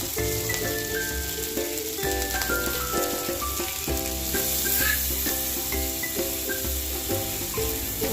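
Poppy seed paste sizzles and fries steadily in a pan with turmeric, a soft continuous crackle running under louder background music throughout.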